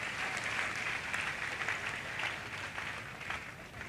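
A church congregation applauding during a worship service, with steady, continuous clapping of moderate loudness from a large crowd heard from some distance throughout.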